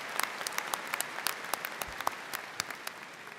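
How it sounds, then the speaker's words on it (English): Applause from a college of business commencement audience, a steady crowd clapping with distinct individual claps popping out sharply above the wash at irregular intervals. "Let's give him another round of applause"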